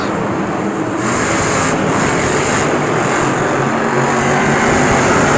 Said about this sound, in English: Now the next race is Adam Anderson and Gravedigger and Scott Puto and the Team Hot Wheels Firestorm